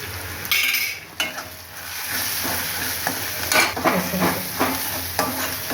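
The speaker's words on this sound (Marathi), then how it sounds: "आता हे चांगलं मस्त परतून घ्यायचं" Turmeric and masala sautéing in hot oil in a pan for Vidarbha-style patvadi rassa, a steady close sizzle with scraping stirs and occasional utensil clinks against the pan, with no talking.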